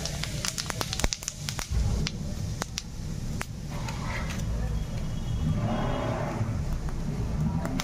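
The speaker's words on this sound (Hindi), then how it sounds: "जैसे ही जीरा चटक जाएगा" Cumin seeds crackle and sizzle in hot mustard oil, a dense frying hiss broken by sharp pops and spits, loud and close.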